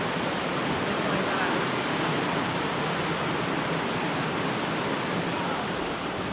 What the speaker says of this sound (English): All right, I'm gonna get close to the waterfall.